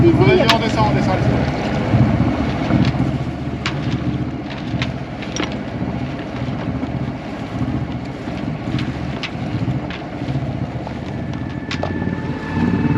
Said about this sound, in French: le vent est totalement tombé, donc on est au moteur